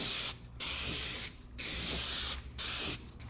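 A rattle can sprays paint onto the chassis of a 1963 International Loadstar truck in loud, close hissing bursts, four long sprays separated by short pauses.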